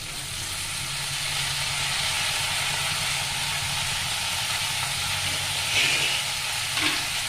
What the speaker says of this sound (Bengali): এরপর আমি কেটে ধুয়ে রাখা পালং শাকটা দিয়ে দিলাম।